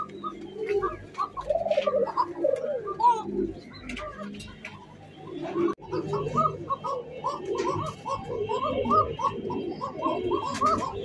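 Fancy pigeons coo steadily in a loft, with overlapping repeated low throaty calls close by and continuous throughout, occasional higher chirps mixed in.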